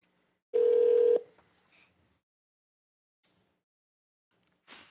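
A telephone keypad tone sounds once during a county board of supervisors meeting, a single loud steady beep lasting about half a second, followed by near silence with faint clicks.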